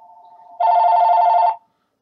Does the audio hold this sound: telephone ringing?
yes